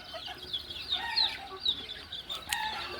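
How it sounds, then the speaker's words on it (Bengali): A flock of seven-day-old farm broiler chicks, around a hundred of them, chirps in quick high peeps and overlapping cheeps, fairly close but moderately quiet, with no talking. "ফার্মি মুরগির বাচ্চা নেব"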